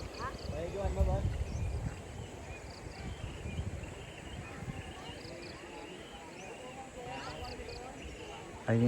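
A horse at a flowing river at Camp Gilmore in Pamitan, Laguna, faint hoof clops on wet ground under steady outdoor ambience, with people talking over it throughout.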